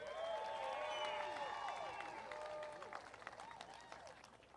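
Applause and cheers ring out at the 2025 Seafair Apollo Mechanical Cup for the trophy-winning driver, with whistles and shouts over a crowd that clapped steadily at first and then thinned out over a few seconds.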